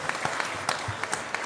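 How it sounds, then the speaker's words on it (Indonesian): An audience claps during a religious sermon in Blitar, a broad steady wash of hand claps at moderate level with a few sharper individual claps standing out, brief and without speech. "boleh tepuk tangan"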